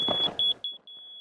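High, thin electronic beeps from a laser level detector as it picks up the beam, a few short chirps then a sustained tone, close and fairly quiet against faint background noise.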